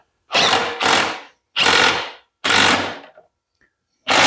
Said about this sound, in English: We should be able to tighten these bolts up now.